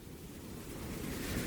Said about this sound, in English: It was the ocean, but it was very faint.